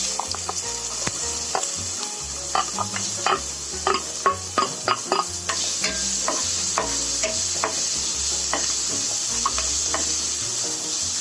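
Onions frying in a pan for a halwai-style potato-onion kachori filling: a strong, constant sizzle with a busy run of sharp spatula taps and scrapes, close and loud, no voices.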